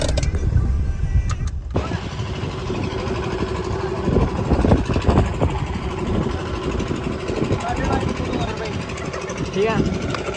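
A tractor engine rumbles steadily up close while people talk loudly over it, at a stunt shoot.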